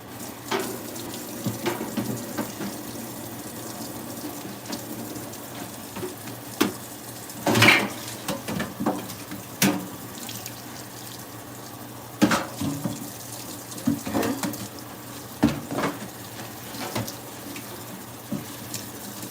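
Pasta drains through a pasta drainer in a home kitchen sink. Running water sounds steadily for a long stretch, broken by intermittent metallic clanks and clatters of cookware, with no talking.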